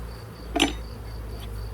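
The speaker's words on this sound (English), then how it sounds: "all your bees are out of this box and pissed off right on top of there" Honey bees shaken out of a nucleus box onto the top of a 10-frame hive, giving a steady, low swarm hum throughout with one brief louder knock partway through.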